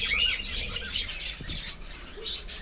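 A pet cockatiel kept for breeding gives several quick, high, thin chirps, fairly faint and scattered over soft room noise, with no talking.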